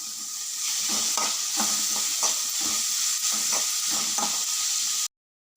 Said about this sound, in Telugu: ఇప్పుడు ముల్లంగి ఫ్రై చేస్తాం ముల్లంగి తురిమింది చేస్తున్నాను